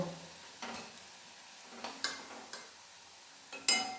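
Raw jackfruit koftas sit in hot frying oil while being lifted out. A soft, quiet sizzle is broken by a few scattered spoon clinks and scoops.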